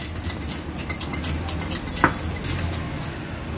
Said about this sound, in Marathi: अंड एक हे फेटून घेऊया आपण व्यवस्थित।